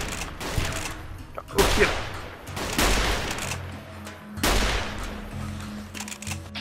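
Pistol shots in Fallout New Vegas ring out as several separate sharp cracks spaced across the stretch, with a voice talking between them.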